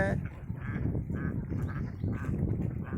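Ducks on a duck farm quack repeatedly in a nasal, rhythmic chorus close by, with a voice talking over them.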